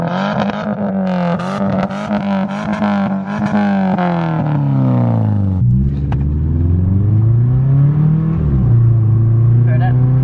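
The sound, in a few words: Subaru Impreza 2.5 RS muffler delete exhaust revving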